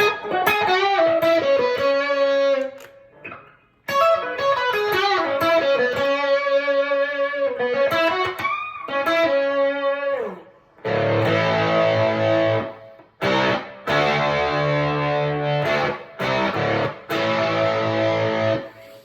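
Electric guitar played through an octave fuzz, a buzzy, thick tone with a bright upper octave, playing riffs and chords loudly with short pauses between phrases.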